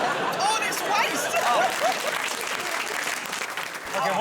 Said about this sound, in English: A big round of applause for Rob and Judi